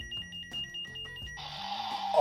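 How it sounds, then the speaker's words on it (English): Power Rangers Morpher toy emitting a series of electronic beeps and tones, close and clear, followed by a louder burst of toy sound effects near the end. "It keeps beeping like a microwave right now."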